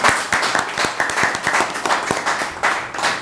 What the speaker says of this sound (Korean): 두 연합회장님 박수 부탁드립니다